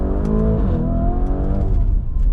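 A Lamborghini Urus accelerating hard, heard from inside as a loud deep engine roar with rising harmonic tones, continuous and close throughout.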